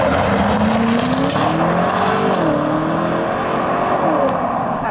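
A 2023 BMW X7 M60i xDrive seven-seat SUV accelerates hard. Its V8 engine gives a loud, continuous roar that climbs steadily in pitch, and there is no talking.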